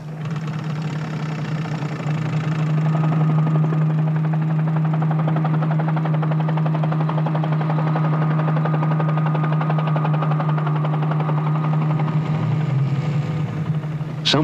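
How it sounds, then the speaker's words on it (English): A helicopter on aerial reconnaissance drones steadily with a strong low rotor hum and throbbing chop, loud and continuous for the whole stretch with no talk. "will guide the helicopter in its aerial reconnaissance"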